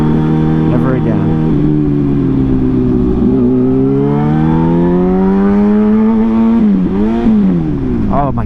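A motorcycle engine drones steadily at low revs while riding, its pitch sagging and rising as the throttle changes and climbing briefly near the end, loud and continuous with wind noise.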